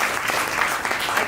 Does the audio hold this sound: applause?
yes